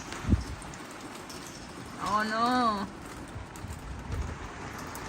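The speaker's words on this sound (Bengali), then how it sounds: "হঠাৎ করে বৃষ্টিটা নেমে গেল আর দেখেন কি অবস্থা এই বছরের ফার্স্ট শিলা শিলা বৃষ্টি" A sudden shower of rain mixed with hail patters steadily outdoors, and a person speaks briefly over the downpour.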